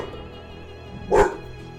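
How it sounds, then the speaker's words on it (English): A single sharp dog bark rings out briefly in a room, moderately close, over a quiet background of video game sound during a strategy game session. "You guys hear anything? It's my dog."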